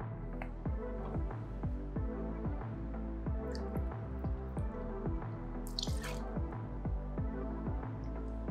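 Bourbon poured into a cocktail shaker, heard as a quiet run of trickling, dripping liquid with small irregular splashes and a brief clink near the middle, close and fairly soft.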